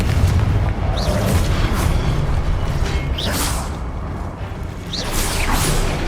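The Confringo fire spell cast in Hogwarts Legacy: three loud blasts, each a whooshing rush ending in a deep boom, about two seconds apart over a constant roar of battle rumble.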